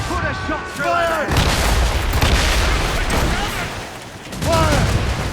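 Heavy cannon fire from sailing ships in Assassin's Creed Rogue booms in rolling volleys, while shouted voices come in at the start and again near the end.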